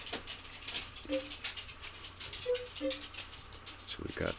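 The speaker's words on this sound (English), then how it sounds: "can hear my dogs" Dogs whimper softly in the background, giving a few brief high whines at intervals. They sound faint and a little distant, mixed with household noise.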